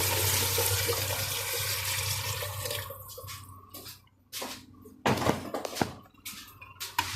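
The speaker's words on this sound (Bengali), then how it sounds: "এই মুহূর্তে পানি ঢেলে দিব।" Water poured into a pot of chicken being cooked with rice and potatoes for six people, a steady rushing pour for about three seconds, then a few splashy gushes and drips close by.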